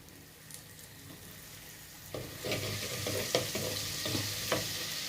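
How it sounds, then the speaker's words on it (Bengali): A paste of onion, garlic, ginger and dried chili is fried for a methi handi mutton. The pan is quiet at first, then a steady sizzle rises, broken by several louder scraping stirs. No one speaks. "ভালো করে এই মশলাটাকে ভাজতে হবে।"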